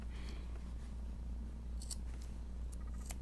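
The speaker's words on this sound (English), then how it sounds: "So I'm just going to go snip, snip, snip all the way around." Small scissors snip through fabric while a doll dress is cut out, short crisp close-up cuts in a quick irregular series over a low steady room hum.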